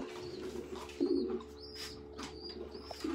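Pigeons coo softly in a few short, throaty bursts against a quiet background, with faint chirps scattered between the calls.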